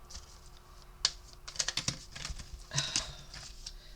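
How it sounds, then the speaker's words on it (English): Oracle cards being shuffled by hand, a run of soft irregular riffling taps and flutters in a quiet room, close and fairly faint, with no talk. "I don't know what's wrong with my shuffling today, guys."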